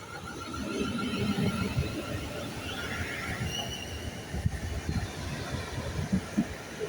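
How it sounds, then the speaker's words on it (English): A four-carriage South Western Railway train at Farnborough station, heard as a faint, steady rumble of wheels and engine with clanks and squeals carried over a busy platform. "The train at Farnborough is 14:35 Southwestern Railway service to Basingstoke."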